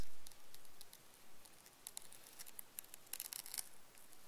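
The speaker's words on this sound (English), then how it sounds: "You can hear the glue." Faint crackling and sticky snapping as the glued mesh grille of a Bose SoundLink Mini speaker is slowly pulled apart, with brief crisp bursts growing denser near the end.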